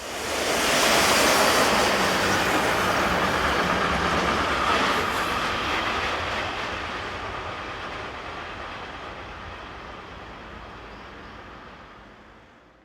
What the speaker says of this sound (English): we see 11243 head this westbound freight as it disappears off into the night